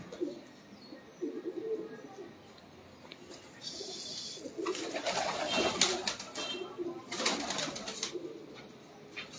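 Teddy breed pigeons coo in low, soft bursts, with rustling and handling noises and louder scuffling bursts partway through, fairly faint and close by.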